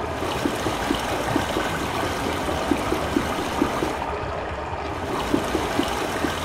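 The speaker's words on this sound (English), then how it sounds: "Pipe water flowing." Water flows steadily from a pipe in the Myst game, a constant loud rushing stream with faint regular clicking pulses running through it.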